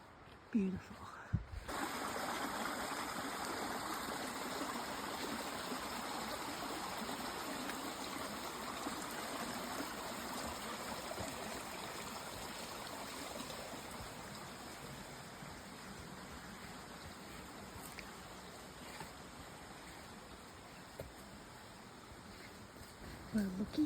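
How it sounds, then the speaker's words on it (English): Stover Creek runs as a steady broadband rush of flowing water along a hiking trail, continuous and moderately distant throughout, with faint footsteps or movement at the start. "You can hear the stream. I think that's Stover Creek."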